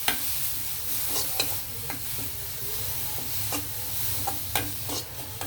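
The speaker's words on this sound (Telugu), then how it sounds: "ఇందులోనే మనం క్యారెట్ తురుము వేపేయచ్చు అనమాట." Grated carrot is stirred and frying in ghee in a kadai, giving a steady soft sizzle under intermittent scraping clicks from a spatula. It sounds close and moderately loud.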